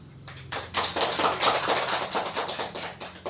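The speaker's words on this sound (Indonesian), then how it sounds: "Beri aplaus dulu." Students in a classroom during a micro-teaching lesson break into applause: a dense, irregular burst of hand claps close by that starts after a brief pause and continues steadily for about three seconds.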